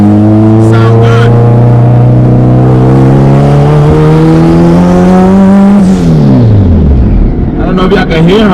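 Turbocharged Honda Civic EK engine idling and revving up close, a loud steady drone that climbs gradually before dropping sharply, with a brief burst of talk near the start.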